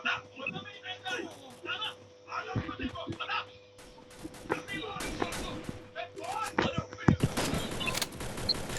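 Sporadic gunfire in a battle royale video game, including shots from an AWM sniper rifle, pops intermittently amid excited voices shouting, with a denser burst of shooting toward the end.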